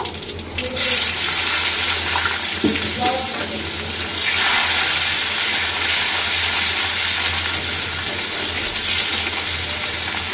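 Cumin, dried red chilli and chopped onion drop into hot oil and fry with a loud, steady sizzle that holds for several seconds, with brief stirring and clatter near the start.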